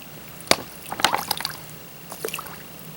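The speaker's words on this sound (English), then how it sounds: "filled up both my smart water bottles" Creek water gurgles and splashes into a plastic bottle in a few irregular bursts, close up over a faint flowing background.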